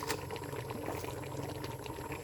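Coconut milk simmering with ginger in a pot, a steady soft bubbling and gentle liquid burble heard close and alone.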